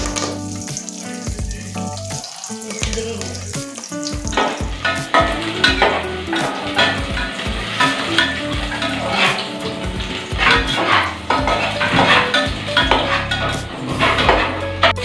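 Whole spices such as cloves, cinnamon, shahjeera and buds, with curry leaves, crackle and sizzle steadily in hot oil for egg biryani, with close stirring and occasional clinks of a utensil against the pan, no talking.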